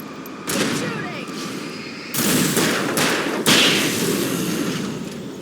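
Gunfire in the video game Alan Wake Remastered, with loud bursts of rapid shots in several sustained volleys, close and heavy, with a few sharp onsets and a voice briefly heard in the mix.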